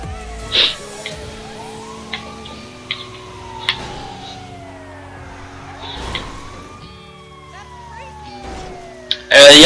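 An ambulance in GTA V drives with its siren wailing in rising and falling sweeps, joined by engine noise, clattering crashes into garden furniture and a few sharp impacts, with a person talking over it.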